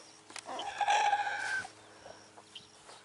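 A rooster's drawn-out call rises clearly, followed by a few soft, scattered clucks from hens nearby.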